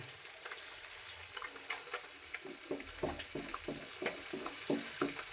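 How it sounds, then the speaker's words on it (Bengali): Thick amla paste for homemade amla candy sizzles and bubbles in a pan while being stirred, with steady rhythmic scraping strokes over a constant frying hiss. "আমি পেস্টটা আস্তে আস্তে এর মধ্যে দিয়ে দিচ্ছি এটাকে দিয়ে এবারে নাড়াবো"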